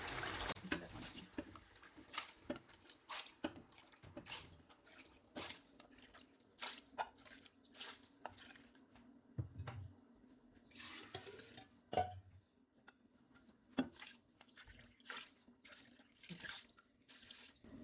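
Water poured in repeated splashing bursts into a pot of rice for Kabuli pulao yakhni, close and soft, with drips and clinks between pours.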